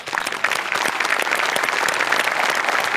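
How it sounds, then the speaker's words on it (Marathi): A studio audience at a Marathi comedy show bursts into sustained applause, a dense, steady wash of clapping that holds at full strength from start to finish. "मला सगळ्यात आधी टाळ्या वाजवायच्या त्या आपल्या मेकअप डिपार्टमेंटसाठी"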